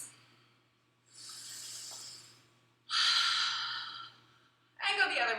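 Three deep, audible breaths during a stairwell workout warm-up, long airy exhales growing stronger each time, close and clear with a faint hum in the background.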